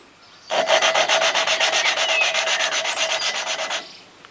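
Valves of a Husqvarna YTH150 riding mower engine being lapped by hand, a close, rhythmic gritty rubbing with about twenty quick back-and-forth strokes over roughly three seconds, between short stretches of quiet.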